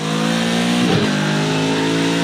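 A GT race car in Project Cars 2 holds a loud, steady engine drone, then blips briefly in a quick rev before settling back.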